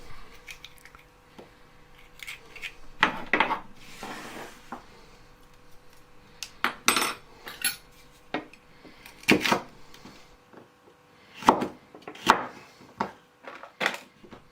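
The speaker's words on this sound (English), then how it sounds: "just chop them in half and cut them into about 2 centimetre chunks" A knife chops deseeded small peppers into roughly two-centimetre chunks on a board, a scatter of sharp, close cuts and taps coming in irregular bursts with quiet gaps between.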